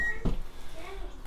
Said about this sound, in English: Okay, I heard this beep,